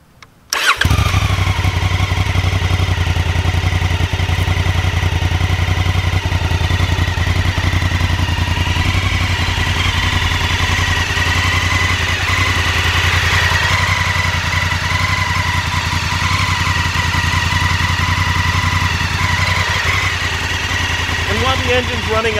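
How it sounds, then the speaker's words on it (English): A Honda Africa Twin ATAS motorcycle engine, freshly filled with oil, fires up and settles into a steady, close, loud idle that holds unchanged throughout, with no talking over it. "after filling the engine up with oil, we're gonna start it"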